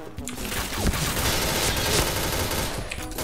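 Gunfire in the online shooter Point Blank comes as a dense, fast run of shots that overlap into a steady crackling barrage, loud and close for about three seconds.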